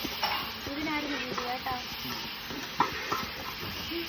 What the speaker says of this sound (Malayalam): ഇന്ന് ബീറ്റ്റൂട്ട് തോരൻ വെച്ചാണ്. എന്നാ ഇളക്കണം.